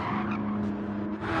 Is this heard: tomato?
no